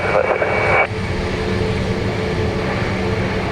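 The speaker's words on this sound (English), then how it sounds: "Sounds like the Garda police helicopter." An Irish Garda police helicopter passes overhead near Dublin Airport, a steady loud rotor and engine drone that holds throughout, with a brief tonal burst early on.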